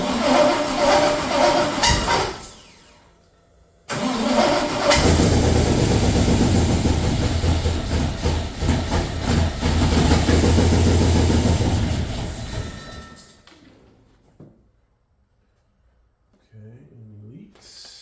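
A 1967 Corvette convertible engine cranks and catches, then runs at a loud, steady, close idle before shutting off, with people talking over and after it.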